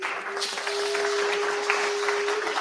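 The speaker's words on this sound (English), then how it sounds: "Give him a round of applause." An audience at a birthday tribute event applauds a speaker with a steady, moderate patter of clapping that holds evenly throughout, alongside a faint steady tone.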